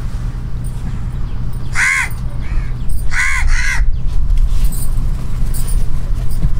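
Crows cawing near a Kerala houseboat in Alleppey as leftover breakfast is thrown to them: two loud bursts of harsh caws over a steady engine drone.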